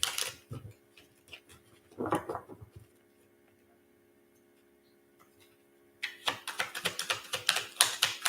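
Tarot cards being shuffled by hand in a sequence of quick riffling, clicking bursts, with a brief flurry near the start and a dense, louder run of card snaps at the end, separated by a stretch of near silence.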